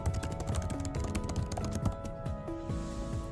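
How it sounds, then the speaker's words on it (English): Typing a message on a computer keyboard, with steady rapid key clicks running throughout at close range over faint background tones. "start typing our own message"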